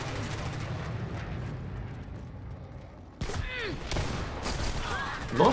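Gunfire in the video game Dirty Bomb, a quiet rumble first, then a sudden burst of sharp shots and blasts that grows louder toward the end.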